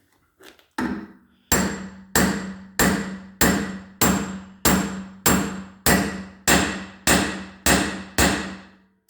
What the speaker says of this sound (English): And we'll use our hammer to drive it in.